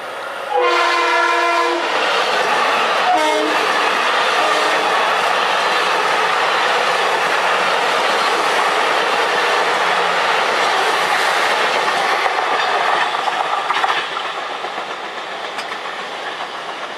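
A westbound Long Island Rail Road Budd M3 electric train sounds its horn in a few loud blasts, then roars past the Willis Avenue grade crossing with a long, steady rush and wheel clatter that slowly fades.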